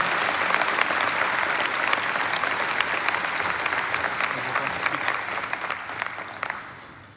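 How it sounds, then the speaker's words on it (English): A large arena audience at a memorial service gives a sustained round of applause, thick and continuous for about seven seconds, tapering off at the close with no talk over it. "Can we give him a round of applause"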